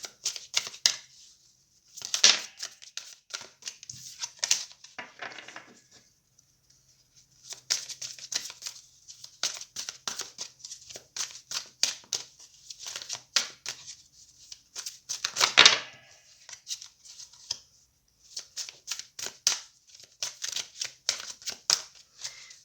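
Oracle cards are shuffled by hand in repeated short bursts of crisp flicking and sliding, close and fairly quiet, separated by brief silent gaps over about twenty seconds.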